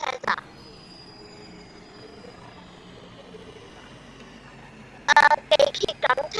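Subway train in the Roblox video game: a faint, steady low rumble runs for about five seconds, then several sharp, loud bursts cluster near the end.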